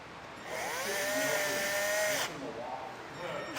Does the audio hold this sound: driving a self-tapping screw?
yes